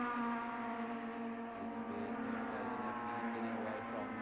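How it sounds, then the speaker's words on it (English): Touring cars, a Nissan, an Astra and a BMW, race in close company at Kyalami, their engines droning steadily and loud in a dense, continuous mechanical roar with overlapping harmonic whine. "Here's three of the top cars in South Africa fighting it out."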